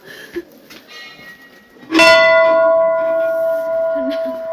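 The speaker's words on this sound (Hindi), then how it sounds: "घंटा।" A temple bell at the Kalika temple in Gangolihat, Uttarakhand is struck once, giving a loud clang that rings on with a sustained metallic tone. Faint voices murmur softly before the strike.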